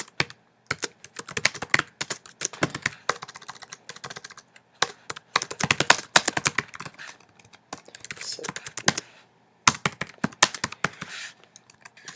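Rapid bursts of typing on a computer keyboard, close and clattery, with quick runs of key presses broken by short pauses while someone writes Java Swing code.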